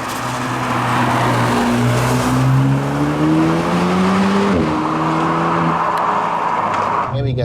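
An Alpine A110's engine pulls hard in second gear, its note climbing steadily and loudly from inside the cabin before easing off near the end.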